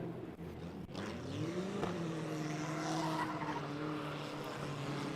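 A race car on a qualifying run at Lake Erie Speedway roars around the track with its engine held at the limiter. The loud, sustained engine note rises in pitch over screeching, skidding tires.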